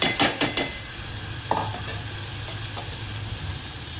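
Soaked chana dal fries in a pan with a continuous sizzle. A few sharp stirring scrapes and clinks land near the start, and one more comes midway.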